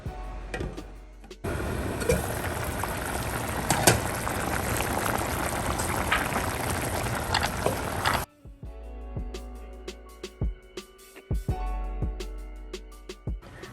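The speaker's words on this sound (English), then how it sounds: "We're going to let it simmer for 12 minutes until it, it just reduces to soup consistency." Caramelized plantain soup simmers in a pot with a dense, steady bubbling roar for several seconds, then softer scattered pops and clinks follow without talking.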